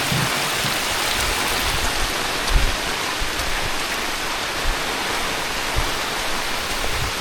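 Heavy rain pours over the stone steps of Pavagadh Mahakali Temple, forming a dense, steady hiss close by. Occasional soft thumps of drops striking nearby surfaces break through the roar.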